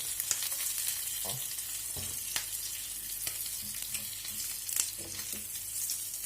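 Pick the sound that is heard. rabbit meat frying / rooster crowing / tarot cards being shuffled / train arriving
rabbit meat frying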